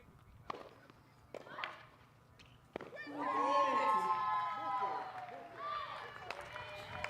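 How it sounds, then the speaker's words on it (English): A tennis crowd at a Billie Jean King Cup match between Morocco and Kenya: a few sharp ball strikes, then a swelling wave of cheering and shouting that holds and slowly fades, fairly distant and moderately loud. "The volume of the crowd is starting to increase"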